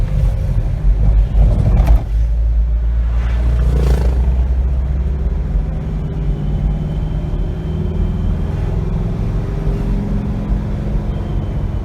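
A 2021 Force Gurkha with the 2.6 l BS6 engine pulls under acceleration as the turbo comes in, a loud continuous low engine rumble heard from inside the cabin, with a brief surge near the start and no talking.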